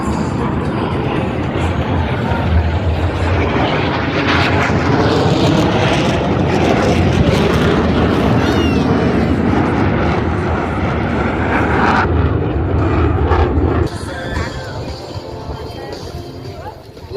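Blue Angels US Navy jets flying in formation overhead at an air show, a loud continuous broadband engine roar that swells and sustains, then eases slightly near the end, with crowd noise beneath.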